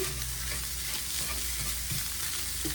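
Shepherd's pie filling being stirred as it cooks in a pan, a steady close sizzle and hiss with soft scraping stir strokes throughout.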